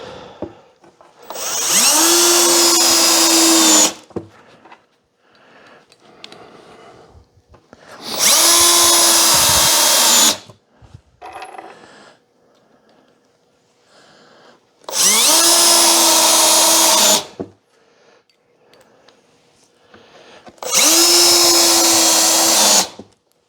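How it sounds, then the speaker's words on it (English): A power screwdriver drives screws into wood in four separate bursts, each a loud whirring spin lasting about two seconds, with quiet pauses and faint handling noises between them. "that's why the screwdriver slipped off it"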